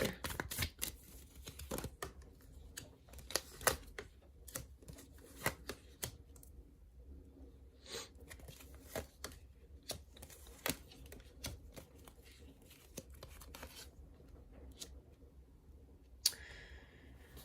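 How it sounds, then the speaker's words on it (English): Tarot cards being pulled from a deck, heard as a quiet series of sharp papery snaps and taps scattered irregularly, close up, with no talk. "Let's pull out a few more cards and see though."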